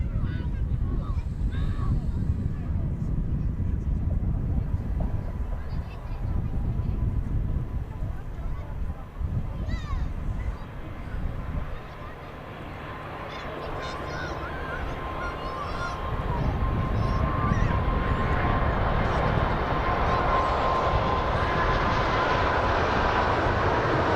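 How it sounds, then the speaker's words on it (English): An Emirates Airbus A380 taking off at Manchester Airport, its engines building into a sustained deep roar that swells louder toward the end, with a commentator talking over the noise. "And there we go with the Emirates. Takeoff speed of the A380 about 190 miles an hour."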